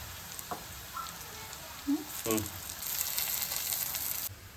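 Crushed ginger-garlic paste and onions fry in a pan with a soft, faint sizzle. The sizzle swells partway through and holds steady, with a few brief vocal sounds and light clinks early on.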